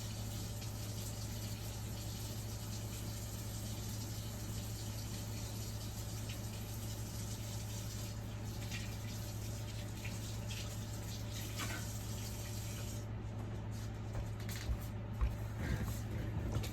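A sterling silver twist wire ring is rinsed under a running tap, giving a steady, even rush of water that stays constant throughout, faint and somewhat distant, with a few small clinks near the end.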